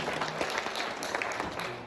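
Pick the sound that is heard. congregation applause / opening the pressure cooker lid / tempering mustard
congregation applause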